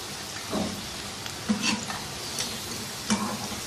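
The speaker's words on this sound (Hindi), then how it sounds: "ये चिकन टेम्पुरा की लास्ट लॉट है जो वो फ्राई कर रहे हैं।" Chicken tempura pieces frying in hot oil, a continuous soft sizzle with a few brief stirring clinks and taps, close and fairly quiet.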